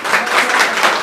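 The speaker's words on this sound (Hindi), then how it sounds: "देखो ये लोग भी आपकी ताली बजा रहे हैं पीछे" A crowd applauds, steady dense clapping heard alone at close range.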